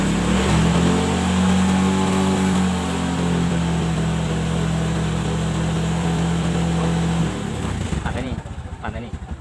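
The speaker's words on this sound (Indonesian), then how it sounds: "Ini motor bisa nyala, tapi saya cek dulu" A Kawasaki ZX motorcycle with a battery-charging fault runs close by with a steady, humming engine tone that holds for several seconds, then cuts out near the end.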